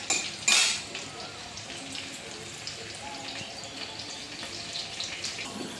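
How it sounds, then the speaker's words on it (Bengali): Steady sizzling of potatoes frying in hot oil, with a sharp burst near the start and light stirring and utensil clinks throughout. "এবার আলু ভাজা হবে"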